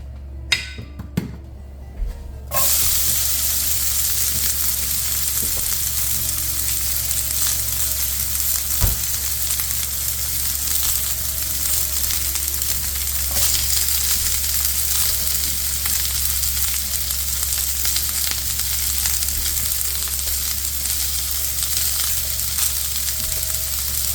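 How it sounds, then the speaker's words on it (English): Onion and garlic hitting hot olive oil in a frying pan set off a loud, steady sizzle that fills the whole stretch, with occasional faint clinks of a utensil and no speech. "I'm going to actually fry off my onion and garlic first."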